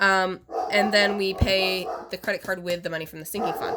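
A dog barks and yips in short bursts close by while a person keeps talking over it.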